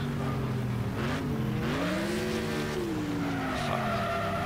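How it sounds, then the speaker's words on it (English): A race car engine in Wreckfest (Next Car Game) whines and revs during a figure-8 demolition derby, pitch rising and falling as tires squeal, loud and continuous with no talking. "My engine sounds like it's like brand new."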